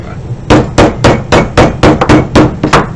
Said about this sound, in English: tap it with a hammer